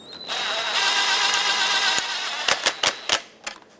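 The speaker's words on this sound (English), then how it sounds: "grab a ratchet and do this by hand so that I don't accidentally over tighten it" A hand ratchet snugs the turbo inlet clamp on a 2008-2010 Ford F-450, a short burst of quick clicks followed by several sharp, close metallic ticks, with no talking.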